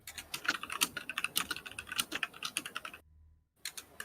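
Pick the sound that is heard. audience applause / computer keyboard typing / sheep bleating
computer keyboard typing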